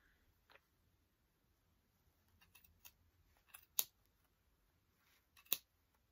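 A few quiet, crisp snips of scissors, spaced apart with soft rustling between them in an otherwise still room, while repairing a wooden knitting needle.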